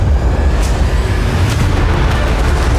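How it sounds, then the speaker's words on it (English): Fireworks set off over water near a yacht, heard as a continuous loud low rumble of booms with faint crackling bursts higher up, no talking. "Fire the fireworks!"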